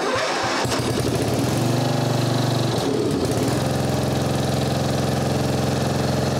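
A Mastercraft 12.5hp engine on a 38-inch riding mower with a freshly repaired carburetor runs at half throttle, a loud, steady close-up drone that surges and climbs in pitch early on, then holds an even, continuous idle-like hum.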